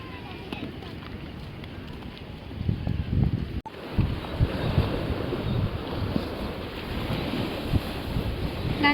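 Wind and surf at Camplong beach, a steady broadband roar of waves with wind buffeting the microphone, lasting throughout with a brief dropout partway.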